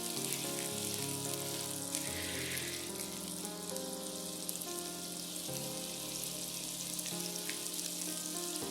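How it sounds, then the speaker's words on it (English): Malay coconut meat patties fry in a pan with a steady, dense sizzle, close and continuous throughout over a background hum, with no talking. "Fry the patties for about 2 to 3 minutes till the bottom side is golden brown"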